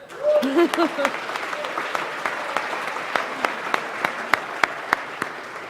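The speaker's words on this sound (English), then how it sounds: "So one round of applause for all of us." An audience claps and applauds steadily after a brief voice at the start, the clapping thinning out toward the end into a few scattered claps.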